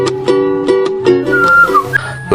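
A man whistles a quick, bright tune of short chirping notes and a few sliding pitches, close and clear, with no talking.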